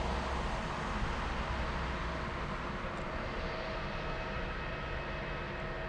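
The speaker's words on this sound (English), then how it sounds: "in front of us right now is Lufty Flight 1172 en route to Lisbon" Lufthansa Airbus A321 airliner at Frankfurt Airport, a steady broadband jet roar held at moderate level throughout, without clear rise or fade, heard from some distance with no talk.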